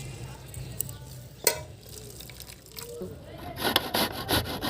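Grated raw papaya being kneaded and squeezed by hand in a bowl, giving soft wet squishing and rubbing with a few sharper knocks, growing denser and more rhythmic toward the end, close up and moderately quiet.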